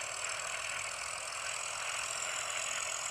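Plane engine in a video game dogfight throttling up: a steady, even droning hum that holds at constant loudness without pause, heard alone.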